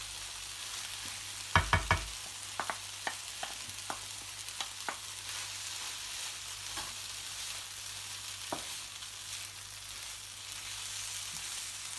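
Grated paneer stirred and frying in a pan gives a soft, steady sizzle, broken by a few sharp clinks of the spoon against the pan early on and sparse taps afterward.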